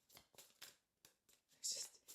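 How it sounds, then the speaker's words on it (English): A tarot deck, the Tarot of the Sacred Kingdoms, being shuffled by hand in a series of quick riffling bursts, close and fairly soft, with a voice speaking between the shuffles. "It's just shuffling completely differently."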